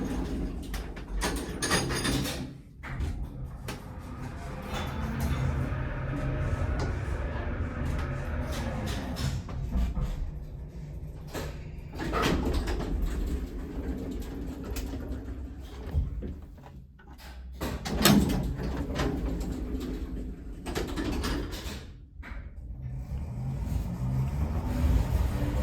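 Vintage Otis winding-drum elevator motor in an old building, running loud and steady through a short ride with a low, continuous drone, broken by a few brief clunks and shifts.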